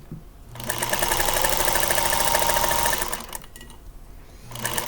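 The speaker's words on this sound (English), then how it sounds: "I'm going to sew onto this little scrap because that's just what I like to do." A sewing machine stitches a small fabric scrap for a quilt in one sustained, fast mechanical run of about three seconds, close and loud, then restarts briefly after a pause.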